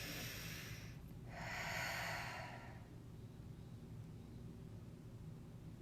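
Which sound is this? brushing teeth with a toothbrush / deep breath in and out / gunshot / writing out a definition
deep breath in and out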